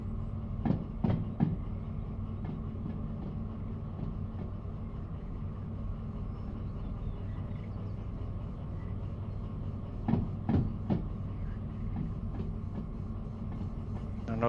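A long freight train rolling on rails in the video game Derail Valley, a steady low rumble with sharp clicks from the rail joints clustered near the start and again around two-thirds of the way through.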